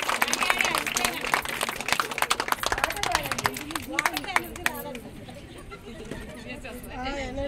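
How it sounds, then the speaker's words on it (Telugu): Audience at a school welcome event applauds loudly, dense clapping in the first few seconds that thins out toward the end, with crowd chatter and a voice speaking over it. "గట్టిగా చప్పట్లు కొట్టండి"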